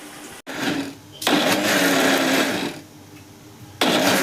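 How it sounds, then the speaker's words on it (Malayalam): A mixer grinder jar whirs loudly as it blends a sauce for pie, running in strong bursts separated by short pauses and restarts, with no voices. "മിക്സിയിലിട്ട് ജാറിലിട്ട് അടിക്കട്ടെ"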